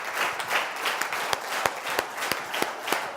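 An audience claps at a stage event, a dense patter of applause with several sharp, distinct claps punctuating it, steady and fairly close for the whole stretch.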